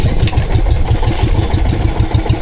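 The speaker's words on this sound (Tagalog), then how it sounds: "Yung makina ko ba, kahit bago ang carburetor, palya-palya pa rin." A boat motor fitted with a new carburetor sputters unevenly, its loud, close idle chugging in an irregular pulsing rhythm throughout, with no voices.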